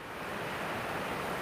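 Steady broadband rush of flowing water beside a waterfall, continuous and close, with no talk over it.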